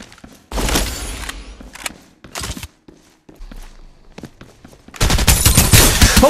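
Bursts of automatic weapon fire in the battle royale shooter Farlight 84, opening with a close rattling volley, then scattered footsteps and thumps, and ending in a loud sustained stream of rapid shots.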